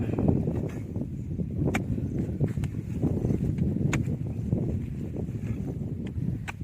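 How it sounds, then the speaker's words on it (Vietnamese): Strong wind buffets a boat in a rough, continuous rush, with scattered knocks and clatters over the gusts. "Gió to lắm."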